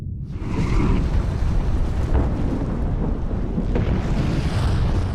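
The Krakatau volcano erupts in a deep, continuous roaring rumble, loud and thunderous, rolling on without a break and with no voices.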